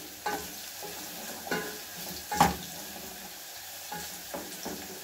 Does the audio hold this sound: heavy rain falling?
no